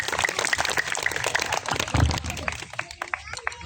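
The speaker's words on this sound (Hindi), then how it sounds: "एक बार भरपूर तालियां" Crowd applause at a company silver jubilee celebration for an engineering firm, dense sustained clapping from many people filling the room, loud and steady throughout.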